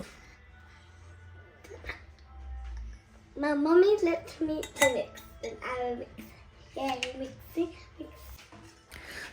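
Eggs and powdered milk being mixed in a bowl with a spoon for pudding, heard as light clinks and scrapes of the spoon against the bowl, close but quiet, mostly underneath someone speaking.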